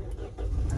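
A 2011 Toyota Vios 1.5E with a manual gearbox starts up, a brief cranking burst that catches into a low engine rumble within a fraction of a second, close by.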